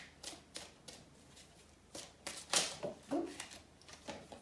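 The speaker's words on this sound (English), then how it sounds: "Sorry, give me a sec while I shuffle." Tarot cards are shuffled by hand in a quiet room, a series of soft papery riffles and taps in irregular bursts, close but faint.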